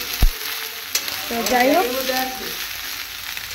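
Soybean chunks frying in a pan, a steady moderate sizzle with a sharp knock near the start and a voice talking briefly over the cooking noise.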